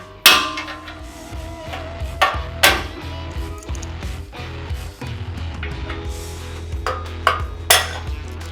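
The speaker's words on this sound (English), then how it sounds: "We'll use a dead blow hammer so we don't scratch anything." Sharp dead blow hammer taps on bolts while fitting a Toyota Tundra front bumper, a handful of distinct knocks spaced irregularly over a low workshop hum, with a few fainter clinks between.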